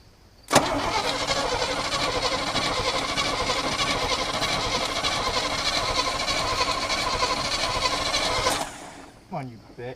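A Chevy K1500 truck engine cranks and catches, running loudly and steadily at close range for about eight seconds before cutting off abruptly, followed by a brief trailing sound.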